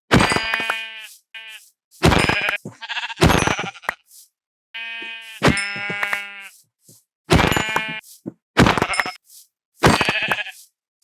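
Sheep bleating in the video game Minecraft, a series of about eight clear, close, loud bleats separated by brief silences, no talk over them.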